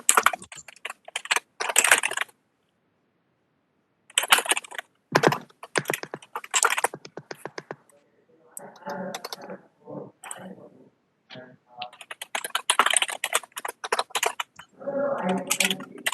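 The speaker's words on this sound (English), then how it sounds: "someone is typing the whole time" Keys clatter on a computer keyboard in rapid bursts with brief pauses, fairly close, while people talk intermittently over the tapping.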